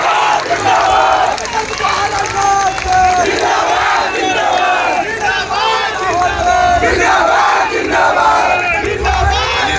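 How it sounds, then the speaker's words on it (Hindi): A large crowd at a political rally addressed by the defence minister cheers and shouts loudly and continuously, a dense roar of many voices with clapping mixed in throughout. "सब लोग हाथ उठाकर ताली बजा दीजिए"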